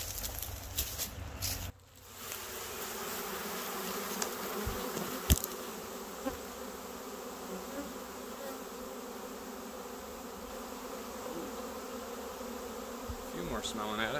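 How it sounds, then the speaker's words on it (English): A honey bee swarm hums as a dense, continuous buzz, close and steady, with scattered ticks and brushing noises over it. "The bees are kind of buzzing towards it a little bit."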